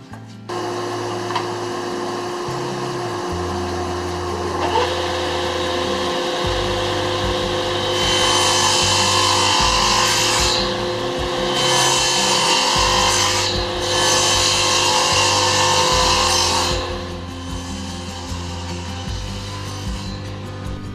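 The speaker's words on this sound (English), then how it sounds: "My dado stack can't cut a groove as narrow as I would like, so after the initial cuts, I tap the fence over just a little and recut the grooves" A dado stack on a table saw cuts grooves in reclaimed wood, giving a steady machine hum broken by several loud rasping cutting passes of a few seconds each.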